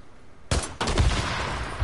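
Red barrels explode in the video game Days Gone, a sudden booming blast followed quickly by a second explosion and a rumbling, crackling tail.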